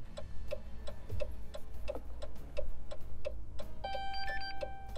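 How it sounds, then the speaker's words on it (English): A Dodge car's chime beeps in a steady, quick rhythm during key fob programming, soft ticking tones repeating evenly over a low background hum. "The car's beeping at us."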